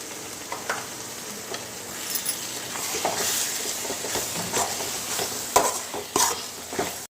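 Fenugreek powder and asafoetida are stirred into hot, sizzling oil for a date pickle, giving a steady close fry hiss broken by scraping strokes and a few sharp clinks against the pan, with no voices.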